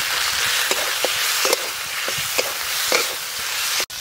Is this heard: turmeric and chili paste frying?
yes